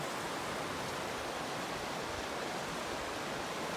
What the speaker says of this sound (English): So here is Baxter Creek in the summer months and not in a high snow year.